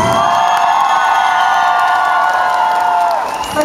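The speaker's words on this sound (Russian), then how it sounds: "Аплодисменты!" A concert audience at a show claps and cheers continuously, a dense loud wash of applause with whoops that fades slightly at the end.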